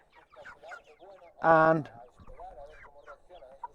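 Chickens in a backyard chicken run give a single loud, harmonic squawk-like cluck mid-clip, with softer bird chatter and a brief spoken word around it.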